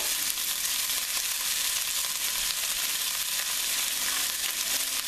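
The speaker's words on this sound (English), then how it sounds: "Olive oil. Put the beef. The garlic, and after I stir that for a second" Beef and garlic fry in olive oil with a steady, close, broadband sizzle that holds even and loud from start to end, with faint stirring scrapes underneath and no voices.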